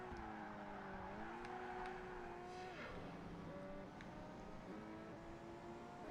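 A race car in Project Gotham Racing 2 drones with a steady engine tone that climbs through the gears, drops on a shift and settles into a sustained whine, with faint tire noise underneath.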